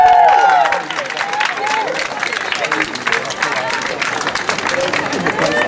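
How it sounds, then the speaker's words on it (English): Audience applause follows a street magic trick, dense clapping with crowd hubbub rising loud at the start and then continuing steadily at a slightly lower level. "Give her a massive round of applause."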